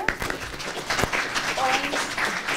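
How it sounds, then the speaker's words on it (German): Audience applause at a reading event in a city library, a short burst of scattered clapping from a crowd that stays moderate and fills the brief moment. "Auch ein Applaus dafür."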